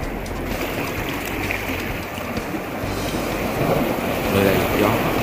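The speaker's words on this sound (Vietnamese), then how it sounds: "Ở đây gió rất là mát mẻ" Steady wind blowing across a pebble beach by the sea, a continuous broad rush of air and surf noise with faint background sounds, no one speaking.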